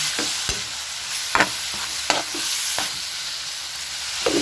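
Ground meat frying in a pan for spaghetti sauce sizzles steadily and close, broken by several scraping stirs spaced about a second apart.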